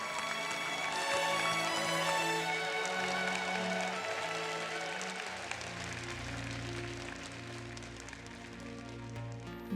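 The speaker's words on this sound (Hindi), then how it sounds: "जोरदार तालियां हो जाए एक बार" A television talent show audience claps steadily, a dense patter of applause that eases slightly toward the end, with music playing faintly beneath.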